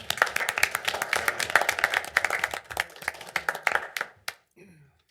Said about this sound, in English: let's welcome Cody and give him a round of applause for stepping up